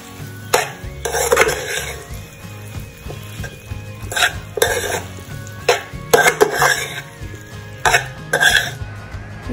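Pasta in red sauce is stirred in a pan with a spoon, producing repeated scraping and squelching bursts at an irregular rhythm over a soft background sizzle and low hum.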